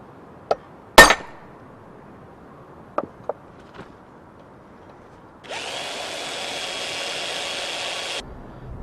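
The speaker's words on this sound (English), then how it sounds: "We'll drill them now before we harden and temper the blade" A power drill whirs steadily for about three seconds, boring rivet holes in a steel knife blade made from a file, preceded by a few sharp metallic taps and clinks in an otherwise quiet workshop.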